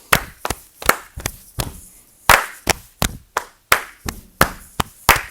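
Sharp hand claps ring out in a steady rhythmic pattern, about a dozen close, clear strikes spaced in pairs and singles with short pauses between them, in a quiet room with no talking.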